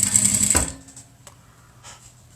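A sewing machine stitches through a coffee-filter face mask in a brief close burst of rapid mechanical whirring, then stops, leaving faint handling clicks afterward.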